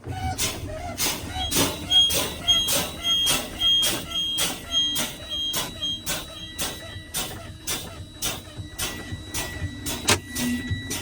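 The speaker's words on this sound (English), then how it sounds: "Both buttons just popped out" Inside a truck cab during an air brake check, the brake pedal is pumped over and over, each press giving a sharp hissing burst in a steady rhythm, about a dozen in a row.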